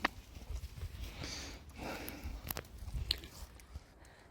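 A dog chews and bites on a ball in the grass outdoors, giving faint irregular crunching and squishing bites with soft sniffs, quiet and close.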